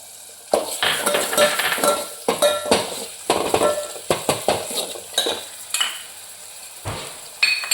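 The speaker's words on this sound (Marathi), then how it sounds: "चांगला असा हलू करायचा आणि त्यामध्ये टॉमॅटो शिजायला टाकायचा" Tomatoes tipped into a spiced masala of red chilli powder in a pan and stirred, a spoon scraping and knocking against the metal in quick uneven strokes over a soft sizzle, close and clear.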